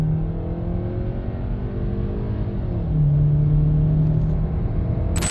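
Skoda Kodiaq Sportline family SUV accelerating hard from a launch-control start: a steady engine drone climbing in pitch, heard from inside the cabin, growing louder midway before easing off, with no talk.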